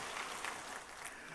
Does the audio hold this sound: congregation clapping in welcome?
yes